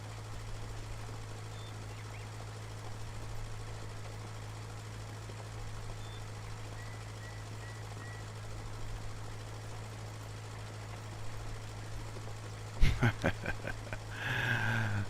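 A John Deere x748 garden tractor in Farming Simulator 19 idles with a steady low, droning engine hum, then a short burst of clattering knocks near the end as it revs.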